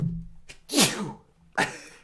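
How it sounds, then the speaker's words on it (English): Two sharp sneezes, the first a longer drawn-out burst and the second shorter, close and loud with quiet between them. "The winner is his sneeze"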